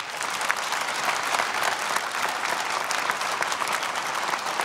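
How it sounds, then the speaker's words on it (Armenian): Studio audience at the Joghovrdakan Ergich 4 folk singer gala applauding steadily, a dense, even wash of clapping from a large crowd that holds at full strength for several seconds. "Դուք ծափահարեք"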